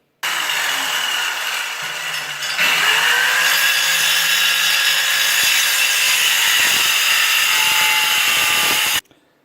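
A power saw cuts through a laminate flooring plank for a floating floor being laid over kitchen tile, giving a loud, continuous grinding whine for about nine seconds before stopping abruptly.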